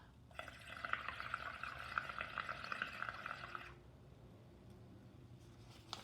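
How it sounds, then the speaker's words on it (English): Air is blown through a straw into soapy water, giving a burst of close, bubbling gurgles for about three seconds before it stops and fades into quiet room tone. "So again, blow through the straw."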